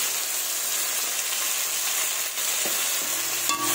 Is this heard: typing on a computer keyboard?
no